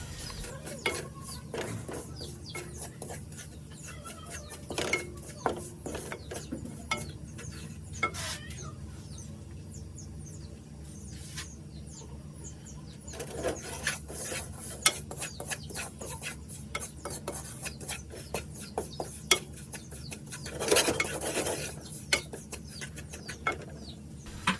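Semolina roasts in oil in a kadai, giving a soft continuous sizzle broken by frequent scraping and stirring strokes of a spoon against the metal, steady over a long stretch.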